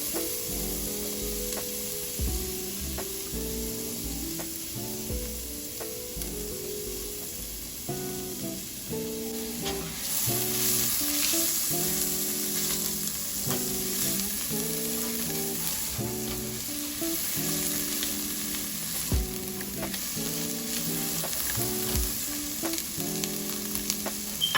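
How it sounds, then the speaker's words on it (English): Onions fry in butter and oil in a pan for fried rice, a steady close sizzle that runs throughout and swells louder about halfway, with faint stirring clicks and music underneath. "I'm taking the same pan, just adding some butter and more oil"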